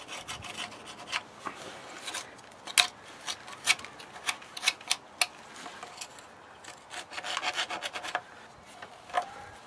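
Scraping at a stuck front axle part during a Citroën Traction front-end restoration: a close, raspy rubbing with irregular bursts of scratchy strokes, some sharper, heard alone with no talk.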